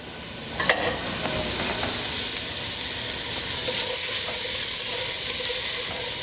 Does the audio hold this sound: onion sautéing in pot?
yes